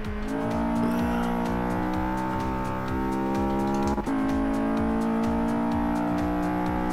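A Mercedes 190E race car on race tyres laps a track, its engine droning loud and steady from inside the cabin with rhythmic pulsing and a brief gear-change dip midway.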